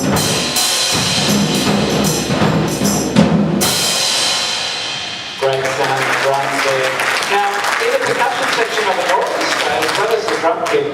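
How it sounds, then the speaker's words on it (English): Audience applause fills a concert hall at a children's symphony orchestra performance, loud sustained clapping that briefly drops off then resumes, with music and talk mixed in around it. "Oh, applause before she starts."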